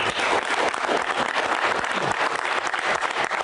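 Loud, steady applause from a crowd, dense and continuous with many hands clapping at once.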